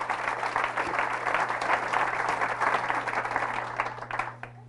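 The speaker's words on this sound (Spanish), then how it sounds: "Fuertes aplausos a la palabra del Señor." A church congregation applauds after a scripture reading at Mass, steady dense clapping filling the room for several seconds, with a low hum underneath before it trails off.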